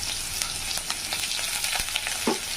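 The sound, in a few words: mustard seeds and curry leaves frying in hot oil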